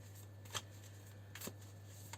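Oracle cards are shuffled in two quick, soft riffling bursts, close but faint, over a quiet low electrical hum.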